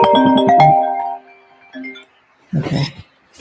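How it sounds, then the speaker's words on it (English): Incoming call ringtone on a phone, a bright tonal melody of repeated notes ringing loudly up close for about a second, then trailing off, followed by a short pause and a brief noisy burst. "Of course, I'll get a phone call."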